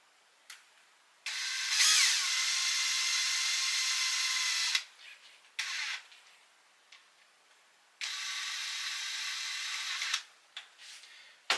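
A power drill drives a flange screw during engine work, with two sustained whirring runs of about three and two seconds. Short clicks and brief spins come between the runs, and the drill is close and clear with no talk over it.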